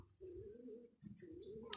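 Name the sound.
pet parrot calling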